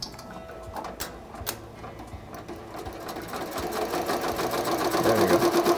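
An embroidery machine stitches a cutwork napkin held in a hoop, its rapid mechanical whirring and ticking running steadily and growing louder and busier toward the end, with no talking.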